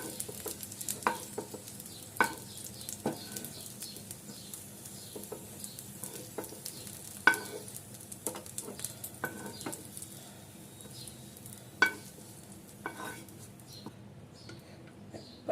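Green chilies fry and get stirred in a pan for tamarind chutney, a soft continuous sizzle broken by irregular spoon scrapes and clicks, fairly quiet and close.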